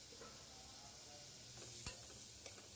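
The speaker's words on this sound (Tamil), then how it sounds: "வெங்காயத்தை கொஞ்சம் அப்படியே வதக்கிக்கோங்க." Onions sauté quietly in a pan for a Tamil sundal gravy, a soft steady sizzle with a couple of brief utensil clicks, faint and alone.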